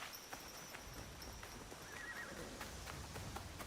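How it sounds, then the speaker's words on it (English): A horse in the video game Assassin's Creed Shadows whinnies, and its hooves clip-clop faintly. The sounds are thin and distant under a steady game ambience of wind and hiss. "And then we call the horse"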